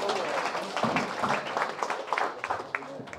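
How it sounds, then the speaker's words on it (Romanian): Audience clapping at the reopening of a pizza workshop, a dense patter of many hands filling the room, moderately loud, with voices murmuring underneath. "Se poate și aplauda, bineînțeles."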